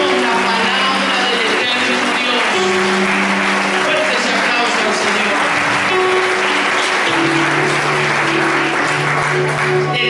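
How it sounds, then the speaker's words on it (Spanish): Church congregation applauding in praise during a Spanish-language sermon, a steady roar of clapping lasting throughout, with music or organ-like tones underneath. "Fuerte ese aplauso al Señor."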